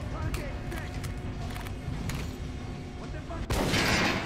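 Muffled gunfire and impacts from the video game Metro: Last Light at a shooting range with dummy targets, several shots over a dense game soundscape, then a loud noisy burst near the end, with speech throughout.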